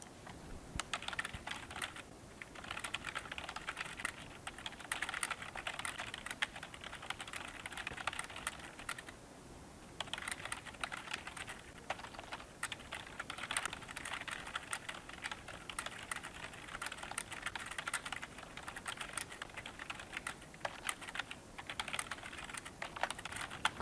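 Continuous quick typing on a computer keyboard, close and fairly quiet, with dense clacking key presses broken by a few short pauses and no talking.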